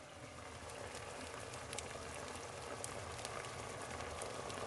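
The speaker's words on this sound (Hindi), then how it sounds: "अब ये बॉईल आ गया" Chicken soup stock bubbles in a pot at a steady, soft rolling boil, a continuous faint fizzing and popping with no talk.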